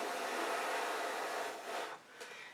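Air is blown onto wet fluid art paint on a card, a steady breathy rush like a small hair dryer that fades toward the end with a brief final puff, no talking.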